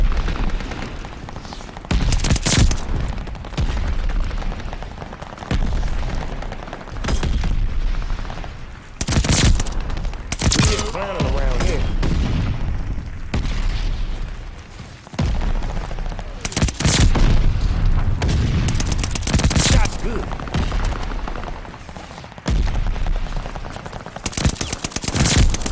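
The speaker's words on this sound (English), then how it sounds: "Allies calling a mortar barrage." Mortar barrage in the Call of Duty Vanguard video game: repeated loud explosions and bursts of gunfire crowd the whole stretch, booming impacts recurring every few seconds with rattling shots between, under faint game chatter.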